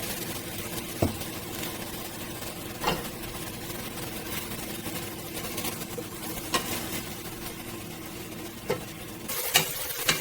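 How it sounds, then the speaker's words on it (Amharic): Onions fry in oil for Ethiopian firfir with a steady, moderate sizzle and occasional sharp clinks and scrapes of a utensil against the pan, close by and without speech. "ሽንኩርቱ ላይ ዘይት ጨምሬ አቅላላዋለሁኝ።"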